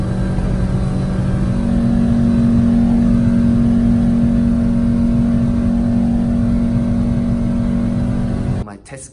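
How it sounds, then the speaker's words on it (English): Black VW Beetle with a stock 1.6-liter engine, 9.3 compression and a Vintage Speed SS143 exhaust driving fast, a loud, steady droning engine note held for several seconds before a sudden cut, with a voice talking over it. "So we had upgrade and changed to new SS143. This is very good exhaust system."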